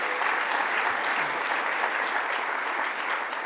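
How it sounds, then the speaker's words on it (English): An audience at a Hurricane Sandy anniversary event gives Commissioner Jackie Bray a round of applause. Dense, even clapping fills the room and holds steady throughout, with no voices over it. "Let's give a round of applause to Commissioner Jackie Bray."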